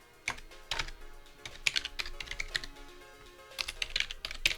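Fingers type on a computer keyboard in short irregular bursts of crisp, close keystrokes, separated by brief pauses.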